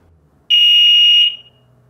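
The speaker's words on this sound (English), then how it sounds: "The smoke alarm will chirp when off." An Emerald wireless smoke alarm gives one loud, shrill electronic tone about three-quarters of a second long. It stops sharply with a short fading tail in an otherwise quiet room.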